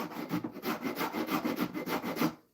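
A rasp working a surface in quick, regular back-and-forth strokes, about ten in a row, close and scratchy, ending abruptly in silence.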